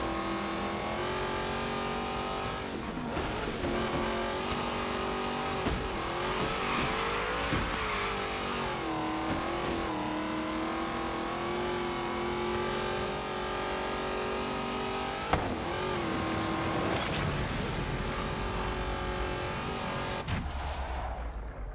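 Nissan GT-R engine racing in Forza Horizon 3 with the Hot Wheels add-on, a loud steady roar with rising and falling revs and gear shifts throughout, a few sharp shift cuts and tire noise, no talk.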